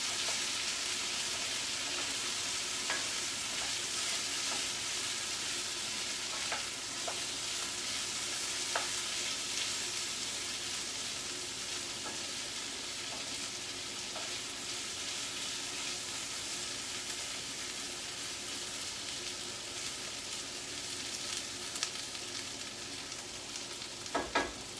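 Potatoes fry like home fries in a pan, giving a steady, moderate hiss of sizzling oil with scattered small pops and crackles throughout, close by and without talk.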